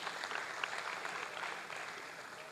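An audience applauds at a talk on energy and carbon neutrality, a dense, even wash of clapping hands spread across a hall, moderately loud and steady for a few seconds with no talk over it.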